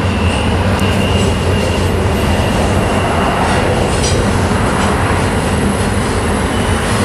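An eastbound freight train rumbles past loud and close at Cajon Pass, with steady wheel roar, clatter and some squealing throughout, no voices.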